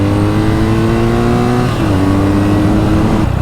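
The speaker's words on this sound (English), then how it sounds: "Every time you rev this bike, the whole thing moves from side to side." A BMW R NineT Scrambler boxer engine revs loudly and close, a sustained throaty drone that swells and shifts pitch midway through.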